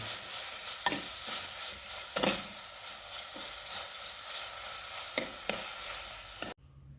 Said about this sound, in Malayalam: തക്കാളി ഇടുകയാണ് എന്നിട്ട് വീണ്ടും നന്നായിട്ട് വാടുന്ന വരെ ഇത് ഇളക്കണം കേട്ടോ